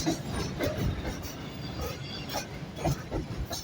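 A New York subway 5 train rolling along with steady rumble, rhythmic wheel clicks and occasional squeals, heard from on board at a fairly loud level.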